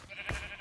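A single short bleat from a sheep in Minecraft, faint and game-like, rising briefly in the middle of a quiet moment with no talking.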